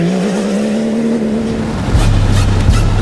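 A Dakar 2019 rally race car drives past loudly, its engine note holding steady and then dropping into a deeper, rougher roar partway through, with no talk.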